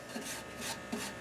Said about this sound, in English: now it's just doing our sanding and finishing.